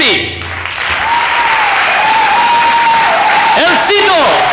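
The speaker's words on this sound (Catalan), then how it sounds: "brindem amb un fort aplaudiment per la Genti" A theatre workshop audience gives loud, sustained applause that fills the room, with a voice calling out over the clapping.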